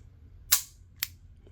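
Two sharp, close clicks about half a second apart, the first louder, come from the trigger reset of a CZ 75 P-01 pistol, heard alone in a quiet room.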